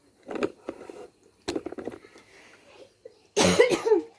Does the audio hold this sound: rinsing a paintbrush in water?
no